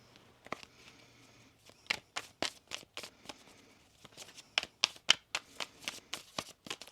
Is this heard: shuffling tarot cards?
yes